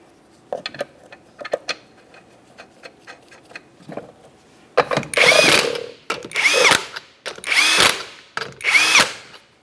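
A power drill runs 19mm lug nuts onto a 1994-1997 Honda Accord wheel in four loud, separate bursts of whirring and rattling, after a series of faint clicks and taps.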